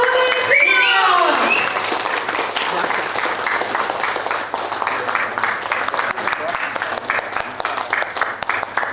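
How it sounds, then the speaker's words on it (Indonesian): A standing audience at a corporate event gives a boss sustained applause, dense steady clapping from many hands that fills the room, with a speaker's voice over a microphone at the start. "berikan penghargaan aplaus yang luar biasa kepada bos kita"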